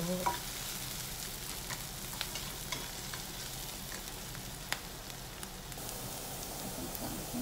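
Ground pork sautéing in a pan for curry, a steady low sizzle and frying crackle running throughout with occasional light stirring clicks, close and fairly quiet, with no voices.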